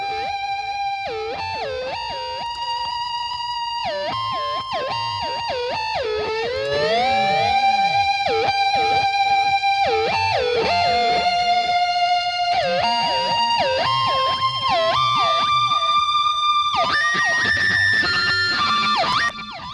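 An electric guitar solo from a rock song production plays long sustained, bending notes with echoing delay and saturated grit, steady and loud, with no voices.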